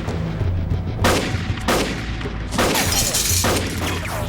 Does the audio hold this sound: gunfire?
yes